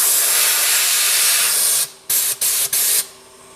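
A new sandblaster nozzle spraying compressed air with no sand loaded, a loud, close hissing blast that runs steadily, then cuts off and bursts on again in three short pulses before stopping.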